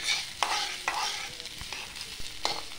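Radish is stir-fried in a pan for a tarka: a steady sizzle runs throughout, and a spatula scrapes through it in sharp, repeated strokes about every half second. No one speaks.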